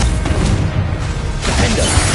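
A Confringo fire spell blast in Hogwarts Legacy, a loud crackling, shattering burst with rumbling low end, followed by a second fiery impact after a brief dip.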